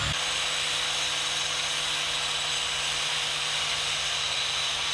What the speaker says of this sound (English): I'm just going to score them with a grinding wheel.